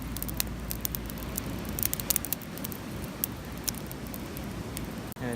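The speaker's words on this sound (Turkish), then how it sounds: "ateşin bir anda büyüdüğünü görüyorsunuz" An outdoor campfire burns in a little wind, giving faint, scattered sharp crackles and pops over a soft, steady rushing hiss, with a brief louder snap near the end.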